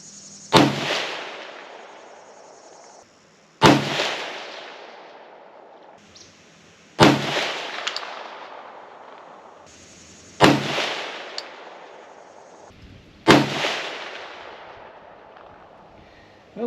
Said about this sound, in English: We'll go ahead and shoot our second target, the bottom right